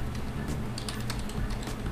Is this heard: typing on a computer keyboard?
yes